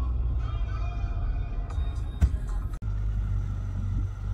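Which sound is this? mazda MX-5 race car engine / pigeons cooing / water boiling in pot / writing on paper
mazda MX-5 race car engine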